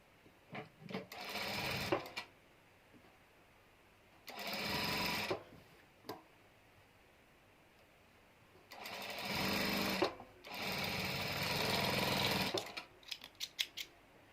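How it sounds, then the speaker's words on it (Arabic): A sewing machine overlocks fabric edges while a Turkish-style dress is stitched, running in several loud bursts of rapid whirring separated by pauses and a few short taps. "هانتوما كنسورجيو داكشي باش كتجي الخدمه نقيه"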